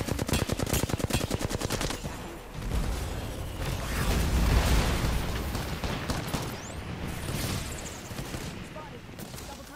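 Fast automatic gunfire in the battle royale game Apex Legends, a loud rattling burst up front, then rumbling blasts and scattered battle noise under a voice.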